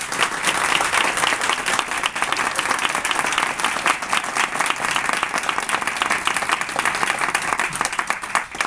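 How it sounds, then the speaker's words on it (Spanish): Sustained, dense applause from an audience at a book presentation, loud and even throughout with no voices on top. "Un fuerte aplauso."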